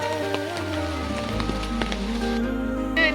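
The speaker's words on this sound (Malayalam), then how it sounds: "ഇപ്പം ഭയങ്കര മഴയാട്ടോ ഇവിടെ" Heavy monsoon rain falling steadily near paddy fields, a continuous dense patter on surfaces with no pauses, close and even in loudness throughout, while a faint steady hum runs underneath.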